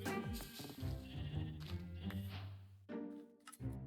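Sheep in the Minecraft video game bleat repeatedly near a sheep farm, a run of wavering, nasal baas overlapping one another at close range with short gaps between calls.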